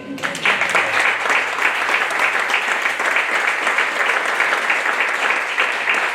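An audience applauds for Richard at a book presentation, a steady, loud wash of many hands clapping for about six seconds, without voices.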